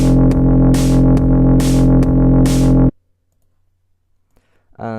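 A loud, gritty synth bass pulses in a rhythmic wobble for about three seconds, then cuts off abruptly to near silence before returning.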